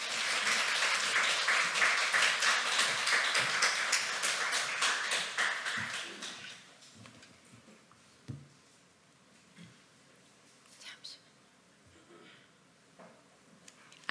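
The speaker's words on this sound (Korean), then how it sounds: "우리 박수로 환영하겠습니다" A Korean Sunday church congregation applauds to welcome a visiting missionary speaker, dense steady clapping for about six seconds before thinning out to a few scattered claps and quiet room noise.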